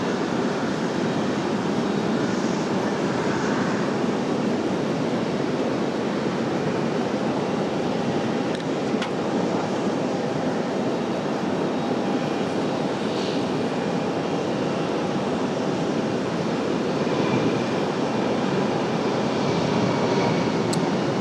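An Air Canada airliner moving at RDU airport gives a steady, broad jet-engine roar, held at an even loudness throughout with no one speaking.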